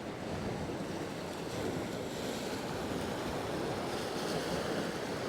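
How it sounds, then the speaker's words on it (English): Ocean surf rolls steadily onto a beach at sunrise, a continuous loud wash of breaking waves mixed with wind noise on the microphone, with no voices. "the sound of the waves"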